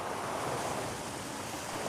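Steady, dense rush of falling water fills the clip, a loud, even broadband roar with no pauses and no voices.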